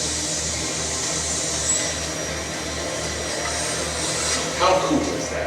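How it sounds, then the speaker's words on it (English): A built-in garage vacuum system runs with a steady, even whoosh and a low pulsing hum, loud and constant, with a brief swell near the end. "our garage vacuum is always ready to go. And when you're done with it, well, just watch this."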